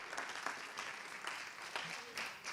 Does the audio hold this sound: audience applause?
yes